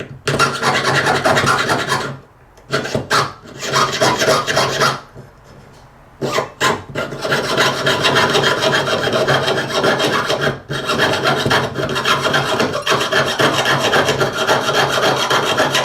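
Hand sawing with a jeweler's saw around metal stampings on a pendant blank, a steady rapid rasping of close strokes that runs almost the whole time, with two short pauses early on.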